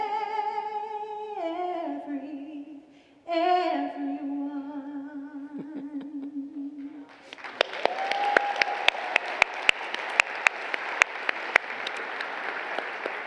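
A church congregation applauding the choir at the end of a song: a held sung or sustained musical tone fades out, then steady clapping from many hands begins and carries on with a few sharp, louder claps.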